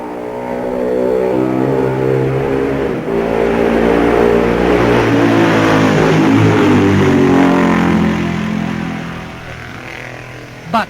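Griff Jenkins's Steve Lansfield Norton racing motorcycle on lap 3 at Balig Bridge. A loud, continuous engine roar holds for about ten seconds as the machine sweeps past, its pitch bending downward before fading slightly.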